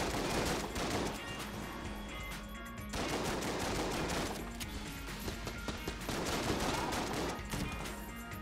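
Rapid automatic AK rifle fire from the twin-stick shooter game Enter the Gungeon, loud dense bursts of gunfire running almost continuously with crashing impacts layered over game music.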